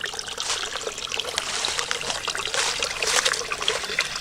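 Water trickles steadily out from beneath a spring pipe at a campsite, a continuous close bubbling splash with no pauses and no talking.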